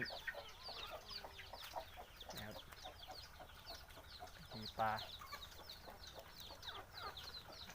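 Chickens cluck in a rapid, continuous scatter of short calls at moderate distance, with a voice briefly speaking over them.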